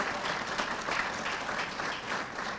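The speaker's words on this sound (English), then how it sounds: "give them an applause" A crowd at a stadium groundbreaking ceremony gives the marching band a steady round of applause, with dense, even clapping continuing throughout the clip.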